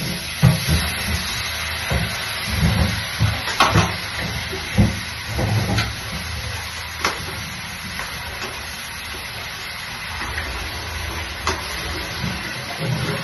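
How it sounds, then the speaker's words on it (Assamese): Taro (kochu) frying in a kadai on a home stove, a steady close sizzle and hiss with soft stirring knocks and scrapes scattered throughout. "কচুখিনি ভাজি লওঁ"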